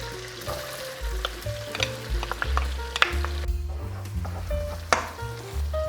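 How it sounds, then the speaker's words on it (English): Onion and garlic crackle and sizzle steadily in melted butter, close up, with scattered spoon clinks and scraping against the pan throughout. "now to add the onion and the garlic."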